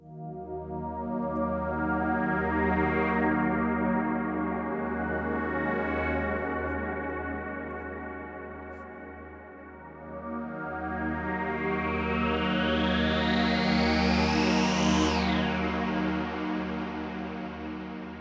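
Sustained music processed with the TAL Reverb 4 plugin, a lush, washed-out reverb tail smearing every note, full and steady, with a rising sweep near the end and no voices.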